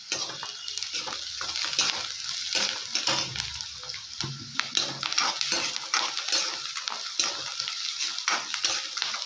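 Ginger garlic paste sizzles and fries in a pan while a spoon stirs it, giving a steady crackling hiss broken by repeated scraping and clinking strokes, close and moderately loud.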